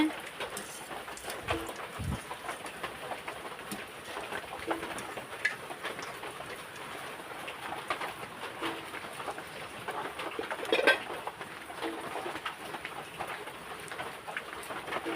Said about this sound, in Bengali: বাইরে প্রচণ্ড বৃষ্টি পড়তেছে